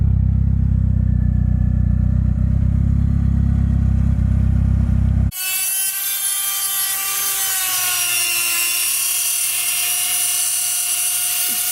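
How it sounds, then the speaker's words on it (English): An angle grinder cuts away the internal wastegate flap on a DSM turbocharger. A heavy low drone gives way to a steady, close grinding whine that runs unbroken to the end, with no voices. "trying to grind off the little flap for the internal wastegate"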